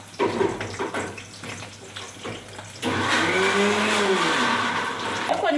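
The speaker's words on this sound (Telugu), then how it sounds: "చింతకాయలకు పచ్చిమిరపకాయలకు ఒక్కసారి మిక్సీ పట్టుకొస్తాం" A mixer grinder blends green chillies and tamarind with salt, first with a few clattering knocks, then a steady loud whirring roar whose motor pitch shifts as it runs, with no voices.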